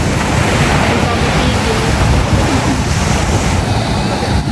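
Steady roar of surf washing ashore, broadband and continuous, with wind buffeting the microphone throughout.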